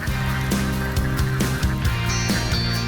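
A flock of ducks being herded by a farmer in the coastal rice fields of Tegal, Indonesia, quacking loudly and continuously at close range in overlapping bursts, with no speech.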